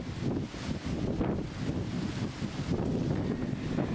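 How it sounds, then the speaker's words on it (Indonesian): Strong wind buffets the microphone over a rough sea with high waves during extreme weather on the coast, a constant loud roar with gusting surges and no voices. "Tingginya gelombang yang disertai angin kencang telah terjadi sejak beberapa hari terakhir."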